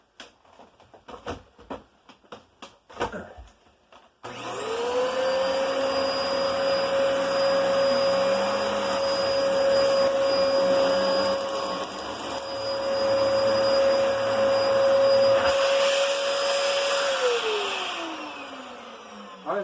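A Dyson DC14 vacuum cleaner starts after a few clicks and knocks, whines steadily at high pitch for about thirteen seconds, then winds down as it is switched off, loud and close.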